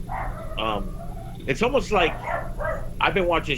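A pet dog named Jackie barks and yips repeatedly in short bursts close by, the barks scattered across the moment and mixed in with someone talking over them.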